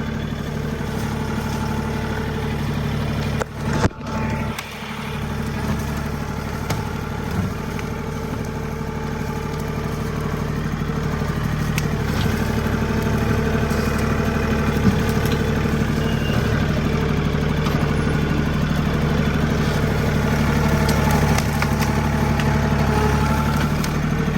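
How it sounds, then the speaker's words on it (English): A tractor engine runs steadily at a low, rumbling idle for a long stretch, close and fairly loud, with a brief clunk early on. "This is the fun part of using a tractor."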